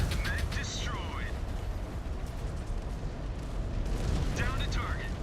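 A destroyed mech exploding in MechWarrior 5: Clans, a dense rumbling blast roar that fills the clip at steady volume, with short radio-like voice chatter heard over it near the start and end.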